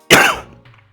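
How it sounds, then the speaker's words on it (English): A single sharp cough bursts close into a microphone, loud at first and then tailing off quickly into quiet. "Did I get cough on my mic?"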